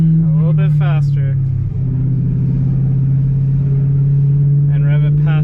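A warmed-up BMW E92 M3 drives along with a steady, deep, loud engine hum and a slight dip partway through, while someone talks over it at the start and end.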